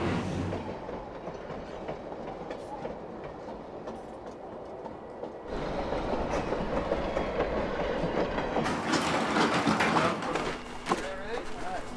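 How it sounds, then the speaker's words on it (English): The Flåmsbanen train in Norway rolls along its track with a steady rumbling clatter and rhythmic wheel noise, growing louder partway through, while people talk over it nearby. "the train we're on now is called Flåmsbanen"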